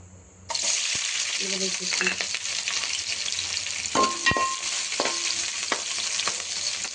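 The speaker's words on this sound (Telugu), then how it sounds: "మనకు ఆనియన్ అలా ఫ్రై అయితే సరిపోతుంది." Chopped onion and thinly sliced green chili fry in hot oil for egg Maggi, a loud, continuous sizzle that bursts in after a moment of quiet, with a few soft stirring scrapes and clinks.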